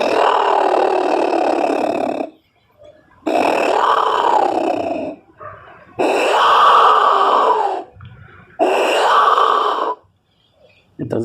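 Clay Mesoamerican jaguar whistle imitating a jaguar's roar, four long loud hoarse growling blasts of about two seconds each, separated by short pauses, close and alone.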